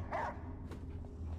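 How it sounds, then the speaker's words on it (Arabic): A dog barks once, short and somewhat distant, within the eerie ambience of the horror game Layers of Fear 2, followed by a faint second yelp amid a low steady background hum. "صوت كلب"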